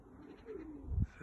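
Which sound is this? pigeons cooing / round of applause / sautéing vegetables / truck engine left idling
pigeons cooing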